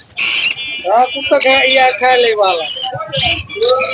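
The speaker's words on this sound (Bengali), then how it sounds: "অনেক সুন্দর সে টিয়া পাখিটি" A pet parrot among exotic colorful birds gives loud, close squawking and whistling calls in rapid varied bursts, with a person talking through much of it.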